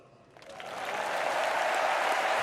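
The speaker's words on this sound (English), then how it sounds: "make some noise for Sasha." A tennis crowd at Roland-Garros breaks into applause and cheering, quickly swelling from a quiet start into a dense, sustained roar of clapping that fills the stadium.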